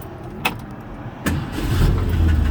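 A 1965 Ford Mustang V8 coupe engine cranks briefly and catches, settling into a steady low idle.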